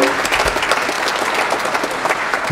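An audience claps for a swing jazz band, producing dense, loud, continuous applause from a crowd with no other sound over it.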